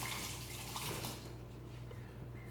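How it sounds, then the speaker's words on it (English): Water runs briefly from a tap during a hand rinse, a soft broadband splash that is strongest in the first second and then thins to a quiet trickle. "Let me rinse my hands if I touch the eggs."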